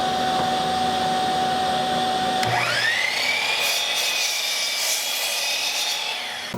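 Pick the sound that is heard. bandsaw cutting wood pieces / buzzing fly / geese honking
bandsaw cutting wood pieces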